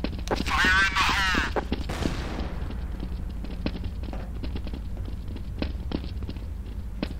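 In Counter-Strike: Source, a voice shouts a short callout, then a grenade explodes in a sharp, loud burst that fades into a decaying rumble, followed by quiet footsteps and faint background noise.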